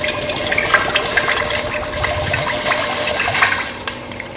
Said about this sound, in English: I'm just adding my coconut milk.